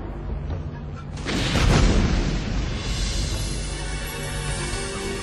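Missiles explode in an animated cartoon battle, a deep booming blast swelling after a second and rolling into a long rumbling roar that fills the rest of the moment with no voices.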